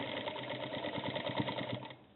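Sewing machine stitching piping onto a blouse, a steady close whirring hum with a fast mechanical rhythm that runs continuously for about two seconds before easing off.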